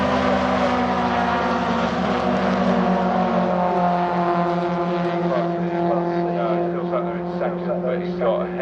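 A pack of MG ZR race cars passes trackside at Silverstone, with loud engine drone and tones that shift as the cars go by, while a commentator talks over it.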